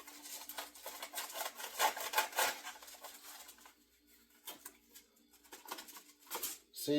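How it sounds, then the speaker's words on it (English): A hand sand plane rasps along the wooden handle of an old axe in a run of close, scratchy strokes that come in uneven bursts with short pauses between them. "Yeah, they call it a sand plane."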